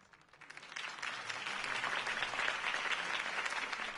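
Crowd applause from the Batman Telltale video game, greeting Harvey Dent after his campaign speech, rising quickly from a soft start into steady, dense clapping that holds for the rest of the moment.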